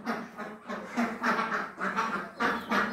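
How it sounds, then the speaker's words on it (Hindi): Village ducks quack in repeated raspy bursts close by, several calls overlapping in an uneven rhythm with short pauses between. "ये तो पूरे बतख हैं।"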